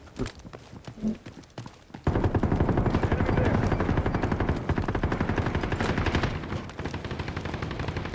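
Gunfire in the shooter game Delta Force, a few scattered shots at first, then a long dense burst of rapid automatic fire, loud and close, easing only slightly toward the end.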